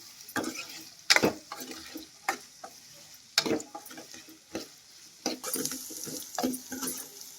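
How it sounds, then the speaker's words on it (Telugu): Onions and green chillies frying in a pan with occasional stirring, giving irregular scraping and sizzling bursts at close range, without speech. "ఉల్లిపాయలు పచ్చిమిరపాయలు కూడా వేసుకున్నాను ఒక ఐదు నిమిషాలు అయితే నేను మగ్గనిస్తాను"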